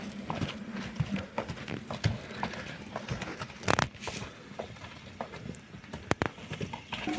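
Hooves clop irregularly on the ground as a horse moves about, with scattered knocks and rustles, close by and moderately loud.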